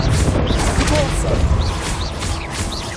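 A Repulso spell cast during spell combat in the Hogwarts Legacy video game, a burst of whooshing and crashing magic within a dense, continuous layer of loud battle effects.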